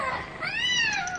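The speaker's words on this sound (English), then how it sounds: "The cat! Look out for the cat!" A cat in a radio drama gives a single clear, drawn-out meow that rises and then falls, close and fairly loud, with no one talking.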